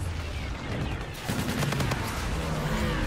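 Rapid bursts of gunfire from a weapon in Call of Duty, a dense crackling volley that starts about a second in and keeps hammering steadily over the game's background noise.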